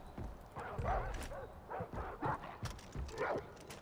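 Dogs bark in the video game Far Cry 4, a run of short, repeated yelps and barks against a busy, steady game background.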